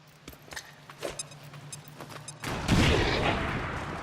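A frag grenade goes off in XCOM 2 (Long War 2 mod): after a few quiet clicks and taps, a loud, broad blast erupts midway and its rumble lingers to the end.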